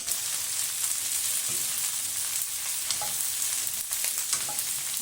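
String beans (sitaw) frying in a pan for adobong sitaw, with a steady loud sizzle throughout and occasional soft scraping of stirring.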